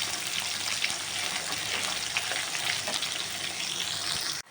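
Onion and green chillies frying in a pan give a steady, close sizzle with faint stirring scrapes, continuous and fairly loud before cutting off abruptly at the end, no voices.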